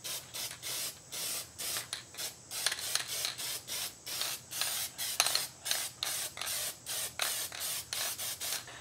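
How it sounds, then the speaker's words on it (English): An aerosol spray can lays clear coat onto a homemade prop book, firing repeated short hissing bursts in a steady on-off rhythm, close and fairly loud, with no talking. "We're going to hit it with a good clear coat."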